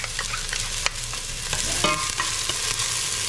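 Garlic and onion sauté in oil in a pan, a steady close sizzle with scattered utensil clicks and scrapes as they are stirred.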